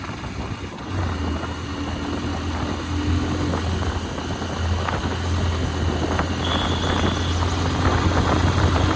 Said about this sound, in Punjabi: ਮੋਟਰਸਾਈਕਲ ਦਾ ਪੂਰਾ ਡਾਟ ਪੈ ਰਿਹਾ ਹੈ